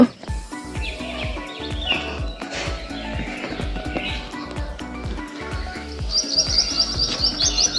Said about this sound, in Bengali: কত পাখি উঠছে দেখো বন্ধুরা চারিদিকে পাখিতে ভরে গেছে পাখির কলতান শুনতে পাচ্ছ